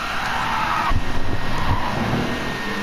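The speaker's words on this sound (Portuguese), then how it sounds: "Olha o ronco do 6 cilindros" A 1965 Aston Martin DB5 with its 4-litre six-cylinder engine roars in the Gran Turismo 7 racing game, a steady loud engine drone that swells and revs. It stays close and continuous, with no voices.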